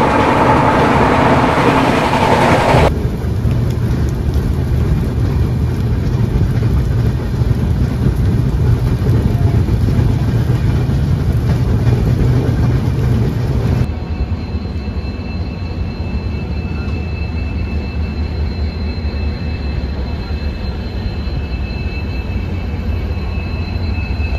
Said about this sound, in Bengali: আর আমি এখন জার্নি করছি ভারতের 7 নম্বর লং রুটের ট্রেন জার্নি, তাও আবার হামসাফার এক্সপ্রেসে।